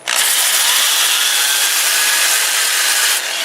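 A 2 inch sanding disc with 120 grit abrades a small wooden bowl turning in reverse on a lathe at about 400 rpm, giving a steady, loud, even rasping hiss that holds for a few seconds and then eases.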